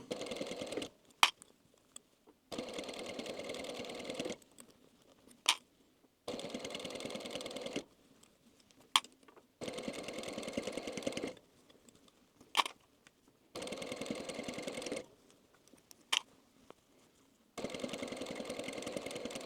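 A sewing machine stitches a bolster pillow in repeated bursts of rapid, steady whirring lasting one to two seconds each, separated by short pauses with occasional clicks, close and clear with no talking.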